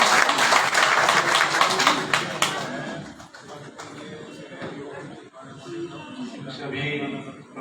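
A crowd at a Ram Katha religious discourse claps loudly for a couple of seconds, then the applause thins out while voices carry on.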